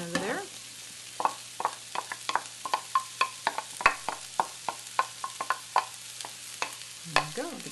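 Onion hits a pan of chorizo for taco pasta, sizzling softly while a spoon scrapes and stirs in steady clicking strokes, close and fairly quiet with no talk.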